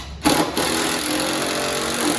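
Impact driver driving a screw into wood, a steady buzzing, rattling mechanical whir that starts abruptly, briefly dips, then runs continuously and fairly loud, heard alone.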